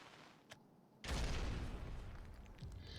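A sci-fi cannon's energy implodes in an explosive effect: a sudden heavy boom that cuts in and rolls on as a sustained, loud rumbling roar, preceded by a faint sharp pop.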